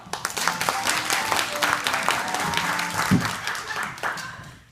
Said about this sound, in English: A warm round of applause for Nick Cricker and son.